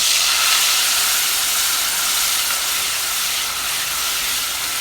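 Spices and chopped tomatoes sizzle in a hot pan while a Gujarati-style potato dish is cooked. A steady, bright, close hiss runs unbroken with no voices.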